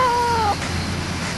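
An elusive outdoor cat lets out one drawn-out meow at close range, fading into faint background noise afterward.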